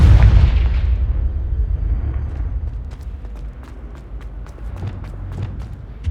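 Confringo blasting spell in Hogwarts Legacy, a loud, deep explosion at the start that rumbles and decays over a couple of seconds, followed by scattered lighter clicks and thuds.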